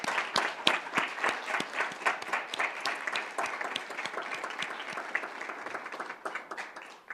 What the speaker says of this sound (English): Sylvia, could you stand so we could give you a round of applause?